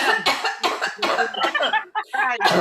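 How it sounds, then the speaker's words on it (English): A woman coughs several times in close succession, short harsh bursts up close, with no other talk around them. "I'm just coughing."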